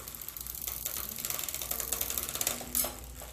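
Rapid ratcheting clicks of a 1980s Japanese Suntour AR friction shifter moving through bicycle gears from bottom to top, a quiet mechanical ticking that speeds up with a sharper click near the end.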